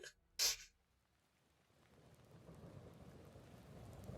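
Steady rain falling in a video game trailer, a soft diffuse patter that builds gradually after a brief sharp burst near the start, with no voices.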